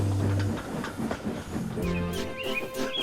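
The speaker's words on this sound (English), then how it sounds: "And Thomas puffed away" A steam locomotive chugs along with rhythmic rail clatter and hiss, its whistle sounding toward the end, fairly close and steady.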